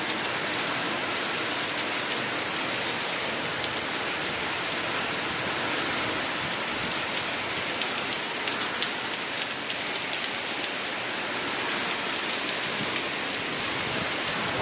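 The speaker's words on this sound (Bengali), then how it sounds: "বৃষ্টি হচ্ছে" Steady, dense rain drums on a rooftop during a windy downpour, a continuous close hiss and patter for the whole stretch with no voices.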